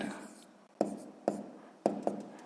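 A pen scratches across paper while working through a fifth-grade math exercise by hand, with a steady faint scrape broken by a few sharp taps and strokes, close and quiet with no talking.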